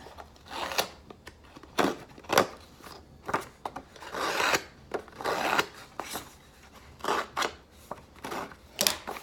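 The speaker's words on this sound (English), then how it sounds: "I used my distressing tool again, distressed the edges" A distressing tool scrapes along paper edges for an ephemera craft piece, making repeated short rasping strokes in an irregular rhythm, close and moderately loud, with no talking.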